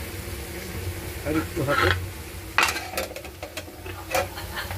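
Puri and chap fry in hot oil, a soft sizzle broken by scraping and clinking of a utensil stirring in the pan, with someone speaking briefly over the cooking.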